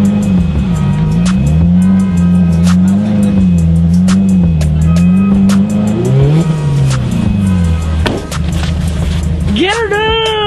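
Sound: Subaru all-wheel-drive car driving in snow

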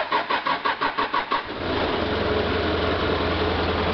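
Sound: forklift engine starting with the key

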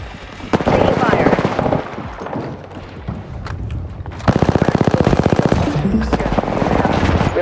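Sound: gunfire in video game Apex Legends

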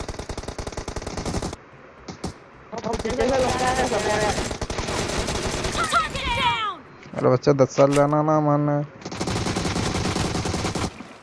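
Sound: gunfire in Garena Free Fire video game

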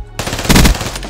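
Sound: HLX-4 gunfire in Call of Duty video game

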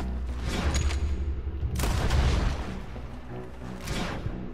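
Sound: dynamite explosion in Red Dead Redemption 2 video game

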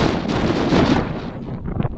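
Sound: wind blowing outdoors

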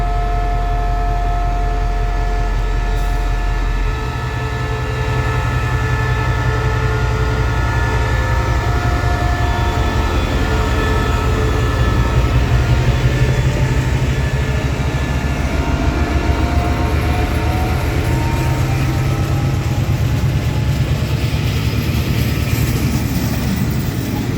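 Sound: diesel locomotive engine running

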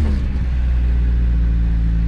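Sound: car engine revving

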